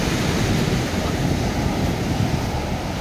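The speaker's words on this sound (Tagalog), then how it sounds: "malakas yung hangin" Strong wind buffets the microphone with a steady, loud roar, mixed with rushing surf nearby at Driftwood Beach, Barretto, Olongapo City, Zambales, with no clear speech.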